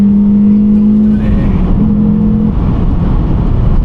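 A car engine is held against its rev limiter on a road, a loud, buzzing, stuttering drone that cuts in and out in short bursts, close up.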